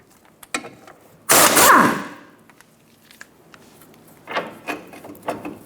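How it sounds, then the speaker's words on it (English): A ratchet wrench loosens 14mm nuts on the rear sway bar bracket at the control arm of a 2014-2019 Toyota Highlander. One loud, fast burst of clicking lasts under a second, followed by a few fainter scattered clicks and shuffles. "I'm going to remove the two 14mm nuts that are holding the sway bar bracket into the control"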